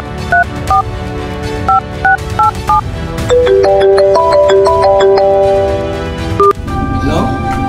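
A mobile phone call is dialled, with a string of short keypad tones in an irregular rhythm, then a melodic ringing tune, close and loud, ending in a brief burst of noise.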